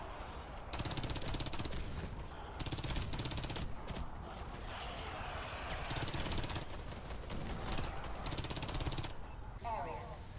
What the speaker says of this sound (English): Keep on shooting.